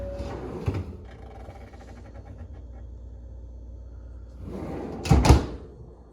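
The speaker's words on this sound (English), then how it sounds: "come and open one of your drawers" A Whirlpool French door refrigerator's freezer drawer slides open with a low rumbling roll, then slides back shut with a brief thud a few seconds later, nearby and moderately loud.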